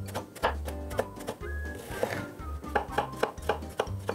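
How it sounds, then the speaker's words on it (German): Knife chopping aubergine, zucchini and tomato into cubes for ratatouille, a steady run of firm, close thunks on a cutting board with a brief pause midway, then quicker cuts. "Ihr wundert euch vielleicht, warum ich das gerade nicht ganz professionell würfel."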